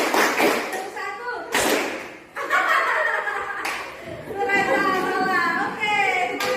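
Short bursts of hand claps come in a counted pattern, mixed with a voice calling out and some laughter in the room.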